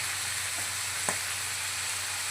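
Mutton curry with spices sizzles steadily in a pan as it is stirred, a soft continuous frying hiss broken by one brief scrape of a spoon.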